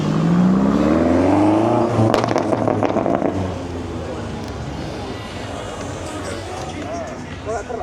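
BMW M5 engine revving at the SwissSpec car meet, a loud rising rev that drops back into a busy crowd and traffic din, with other cars and voices around.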